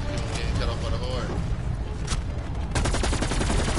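Gunfire in a zombies video game, a dense rattle of shots that grows into a rapid burst near the end, loud over constant game noise.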